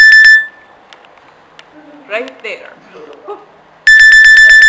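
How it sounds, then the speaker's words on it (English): An alarm clock sounds in short, bright, rapid repeating beeps at the start and again at the end, with quiet indoor talk in the gap between the two bursts. "So that's my alarm beeping."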